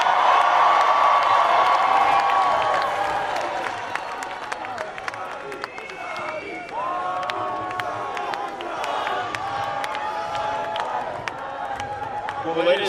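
A big crowd at a Stand with Israel rally in Washington, DC cheers, claps and whoops in a sustained roar that slowly eases but keeps going, with some shouted voices and whistles mixed in.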